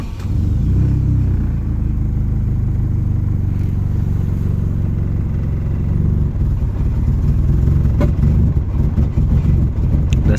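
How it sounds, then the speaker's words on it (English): A car engine revs as the throttle is opened, a loud, sustained low rumble filling the whole stretch with rising and falling throttle surges and a few sharp pops near the end. "That's me opening the throttle."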